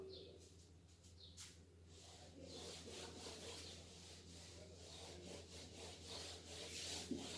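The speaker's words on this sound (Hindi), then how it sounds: "तो इसको मैं रब कर रहा हूं" A polaroid sheet is rubbed by hand in a physics lesson, a faint, steady scratchy rubbing with soft repeated strokes over low background hum.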